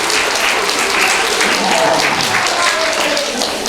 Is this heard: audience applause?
yes